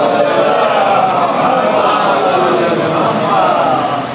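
At a Muharram majlis, a large crowd chants salawat together in a loud, dense, continuous mass of voices that fills the whole stretch.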